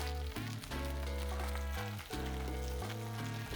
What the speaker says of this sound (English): now you see with a good temperature, you know, it's frying very well